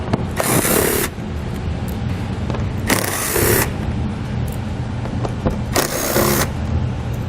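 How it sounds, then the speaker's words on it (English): A power tool backs out front bolts with a 7mm socket on a 2018 vehicle during base plate installation, sounding in three short, loud, whirring bursts over a steady background hum. "Then remove the 8 bolts that go across your front. You're going to do that again with a 7mm socket."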